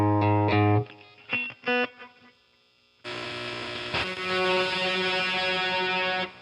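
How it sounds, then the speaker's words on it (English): Electric guitar plays through a Line 6 Catalyst amp with a fuzz tone: a few heavily distorted stabbed notes, a brief gap, then a dense, buzzing sustained fuzzed chord that rings for several seconds. "we got a fuzz tone"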